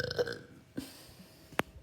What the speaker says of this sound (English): I can't stop burping because I've had a lot of carbonation.